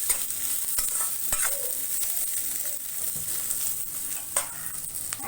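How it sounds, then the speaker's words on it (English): Coconut frying in a pan over a medium flame, with a steady bright sizzle and scattered scraping taps of stirring, close and continuous with no talking. "Make sure the flame is in medium, else the coconut will over fry."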